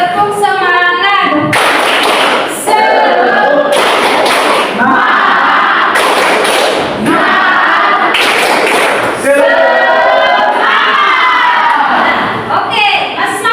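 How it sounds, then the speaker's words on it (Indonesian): A classroom of children does a rhythmic spirit clap, with sharp unison claps in repeated patterns between shouted chanting and cheering, loud and close throughout. "tepuk semangat"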